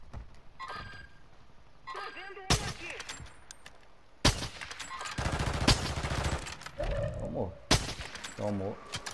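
Several sharp sniper rifle shots from the video game Call of Duty: Warzone crack out in separate bursts, loud and close, with voices talking in between.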